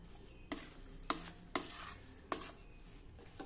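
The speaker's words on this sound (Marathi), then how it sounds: "आता मध्यम आचेवर हे सतत परतत राहायचं आहे।" Kesar coconut burfi mixture of coconut and sugar stirred over medium heat in a pan, four sharp scraping strokes of a spatula over a soft background sizzle, close and distinct, no talking.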